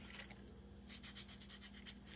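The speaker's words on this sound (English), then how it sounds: "Now you're sanding some of it back" Red paint on scrap wood being hand-sanded back in a craft project: faint, rhythmic rubbing strokes repeating steadily, with no talk.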